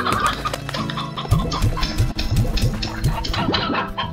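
Chickens in the Slime Rancher video game cluck in a quick run of short repeated calls, close and clear over a busy game soundscape.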